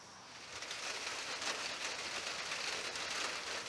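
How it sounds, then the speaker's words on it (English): Steady rain falls continuously during a wet spell of several days, a dense, even hiss of drops on surfaces that stays loud and unbroken throughout, with no voices. "it's still raining"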